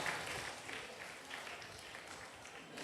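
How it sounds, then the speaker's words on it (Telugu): Crowd applause at a church golden jubilee celebration in Illandu, Khammam, a dense patter of many hands clapping steadily at a moderate distance, fairly soft and continuous for a few seconds. "గట్టిగా చప్పట్లు కొడదాం"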